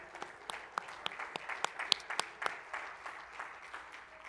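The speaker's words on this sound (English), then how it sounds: "Oh, let's clap our hands and praise Him this morning." A church congregation clapping hands during a Sunday morning service, a rhythmic, fairly faint patter with regular accented beats, heard from a distance.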